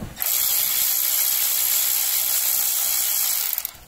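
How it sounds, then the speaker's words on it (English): A ratchet tool buzzes in one continuous run of about three and a half seconds while backing out 10mm bolts from the clutch cover of a Polaris Scrambler XP 1000 S, loud and close with no talking. "take the bolts out"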